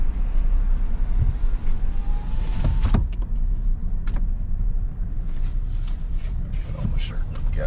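Car driving along a road, a steady low engine and road rumble running throughout at close range, with a short window or door mechanism noise and a couple of brief clicks partway through, and people talking over it.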